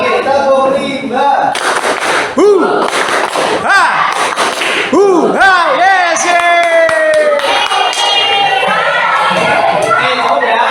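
A group performs the tepuk rimba rhythmic clapping, a close run of sharp, crisp claps in a patterned beat mixed with voices calling and shouting, ending in a cheer.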